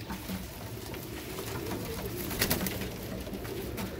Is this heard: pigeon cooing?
yes